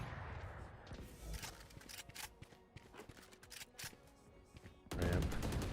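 Gunshots in the video game Valorant, a series of quiet, distinct sharp shots spaced irregularly over several seconds, ending in a louder, denser burst near the close.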